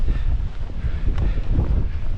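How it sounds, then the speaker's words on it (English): Strong gusty wind buffeting a wild camp in stormy weather, a loud, steady low roar with rushing surges, close on the microphone and with no talking. "Crazy wind. That's worse than last week."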